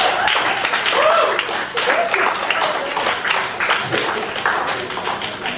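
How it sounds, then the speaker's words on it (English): Applause and clapping from a comedy club audience at Helium as the next comedian is brought to the stage, a steady broadband wash of hands lasting the whole stretch, with some crowd voices mixed in. "Let's make some noise for your next comedian, Pat Barker."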